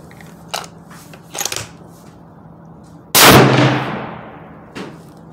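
A single loud Ruger American Go Wild .308 rifle shot fires at an outdoor range with match-grade 155-grain ammunition, a sharp crack whose long decaying echo rolls away, framed by faint clicks and handling noises before and after.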